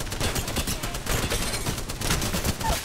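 Rapid bursts of automatic gunfire in the battle royale shooter Apex Legends, dense close cracks and rattling shots firing almost without pause across a few seconds.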